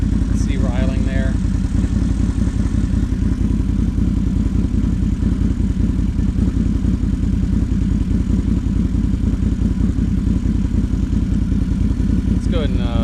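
A Can-Am Renegade XMR 1000 ATV idles through an SLG Bomber Series exhaust, a loud, steady low rumble with rapid even pulses that runs unbroken throughout, with faint brief voice traces at the start and end.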